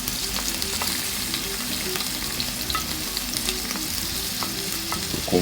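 Red onions and sweet pepper fry in olive oil in a pan, a steady close sizzle with occasional stirring scrapes and small pops, no voices.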